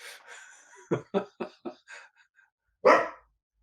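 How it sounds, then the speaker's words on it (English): A corgi barks in a burst of about four sharp, close yaps, followed by a pause and then one louder bark, with a voice-like vocal sound at the start. "Apparently bark at the alien. That didn't go down too well in Alien 3. That's my corgi. She's very vocal."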